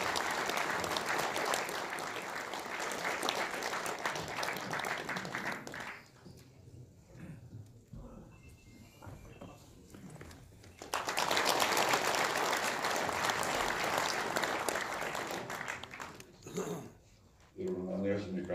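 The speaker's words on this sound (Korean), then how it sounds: "우리 노재봉 전 총리님을 힘찬 박수로 맞이해 주시기 바랍니다" An audience gives strong applause to welcome former South Korean prime minister Roh Jae-bong at a gathering of retired generals, with a loud burst, a quieter stretch where a voice speaks, then a second sustained wave of clapping.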